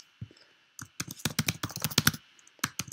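Rapid typing on a computer keyboard, a brisk burst of sharp key clicks after a few isolated taps, close and clear with no talking.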